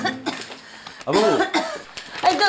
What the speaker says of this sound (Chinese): 啊你感冒哪也袂好啦，咳嗽到安尼